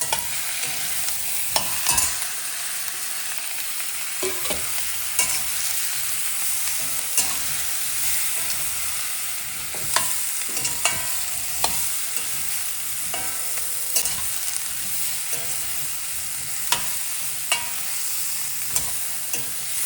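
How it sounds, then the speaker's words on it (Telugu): Cauliflower and potato fry in oil over a high flame with a constant loud sizzle. Sharp scrapes of a spoon stirring in the pan recur every second or two, close up and with no talking. "ఒక 2 నిమిషాలు ఆయిల్లోనే ఇట్లా ఫ్రై చేసుకొని"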